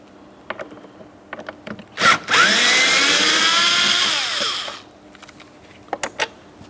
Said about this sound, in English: Deep inside this area, we have another T20 torque screw to be removed.